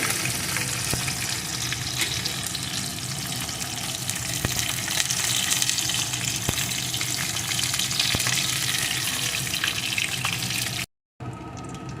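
Fish pieces fry in hot oil in a pan, giving a steady, close, dense sizzle with occasional crackles and small pops, continuous for most of the stretch before a brief cut near the end.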